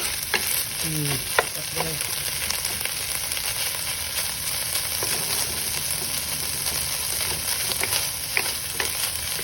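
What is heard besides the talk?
Argentina canned ground pork frying in pan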